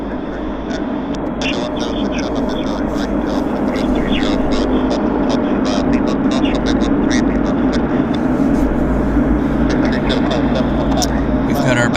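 An Air Canada Airbus A330 on approach near Vancouver airport in winter makes a continuous low engine rumble and drone at a distance, with the steady noise running beneath talk.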